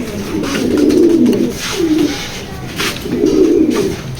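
Pigeons in a loft coo in low, rolling bursts, three clear phrases close by with brief pauses between them, with no talking.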